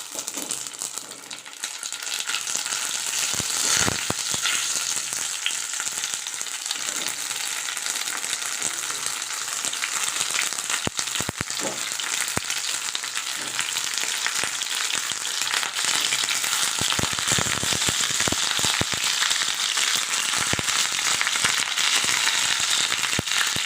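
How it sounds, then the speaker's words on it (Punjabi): Stuffed bell peppers fry in hot oil with a loud, steady, close sizzle and crackle that carries on unbroken. Occasional sharper pops and stirring clatters break through. "ਹੁਣ ਅਸੀਂ ਇਹਨੂੰ ਫਰਾਈ ਕਰਾਂਗੇ ਓਇਲ ਸਾਡਾ ਗਰਮ ਹੋ ਚੁੱਕਿਆ ਜੀ ਸ਼ਿਮਲਾ ਮਿਰਚ ਪਾ ਲਵਾਂਗੇ"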